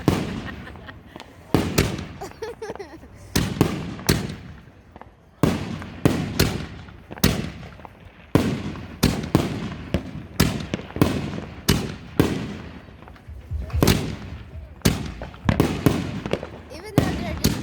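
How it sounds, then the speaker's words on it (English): Fireworks at a 4th of July celebration explode in a rapid series of sharp, loud bangs and crackles, some close and some farther off, with voices talking in between. "These fireworks are so pretty."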